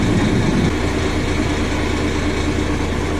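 A truck engine runs steadily while building up air pressure during a late-night roadside breakdown repair, a constant loud low rumble with broadband noise and no talk.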